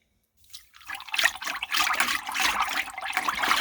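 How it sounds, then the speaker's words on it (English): Bread yeast being whisked into watermelon juice for homemade wine, a steady close liquid swishing and sloshing that starts after a short silence and continues without pause. "We're going to whisk that in."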